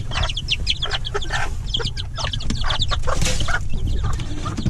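Ash-grey hens cluck steadily at close range, a busy stream of short clucks and calls over a constant low rumble, with no talk.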